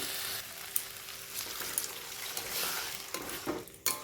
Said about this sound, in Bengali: এবার এর ভিতরে আমি দিয়ে দেবো জল।